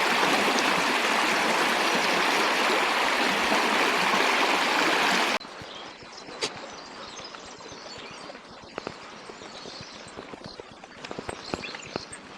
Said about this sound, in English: I could just spend hours here pondering, watching the water flow.